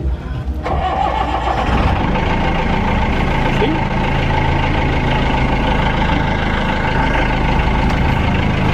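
An old Skipjack 32 sailboat's inboard engine turns over and settles into a loud, steady idle close by, its rumbling drone continuous with no pauses.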